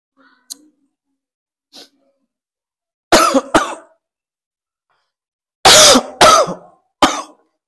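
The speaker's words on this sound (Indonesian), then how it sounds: "Batuk." A person coughs in close, loud bursts: two sharp coughs, a pause, then three more in quick succession, preceded by faint small sounds.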